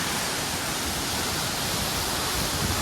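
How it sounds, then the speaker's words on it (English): Jogini Waterfall near Manali, heard from behind the falls, rushes as a loud, dense, unbroken hiss of falling water. "this is the backside of the waterfall"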